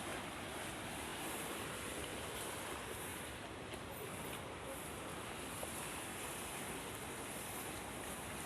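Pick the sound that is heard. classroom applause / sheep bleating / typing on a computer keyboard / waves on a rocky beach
waves on a rocky beach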